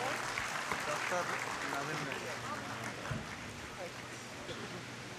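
Applause from an audience honouring the MLA at a Memon Jamat centenary celebration in Parbhani, steady and moderately loud throughout, with a voice speaking over it.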